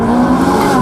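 Ferrari 458 Speciale driving on a road, a loud, close, sustained engine roar with rich harmonic tone and road noise, no talking.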